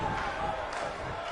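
A wrestling arena crowd in WWE 2K19 cheers and roars in a steady, dense wash of noise throughout, with no break in the din.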